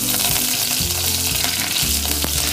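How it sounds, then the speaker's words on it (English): Mustard seeds and curry leaves sizzle and spit in hot oil, a loud, continuous crackling fry close by with a stirring scrape, no voices. "To this add half teaspoon of mustard seeds and 8 to 10 curry leaves."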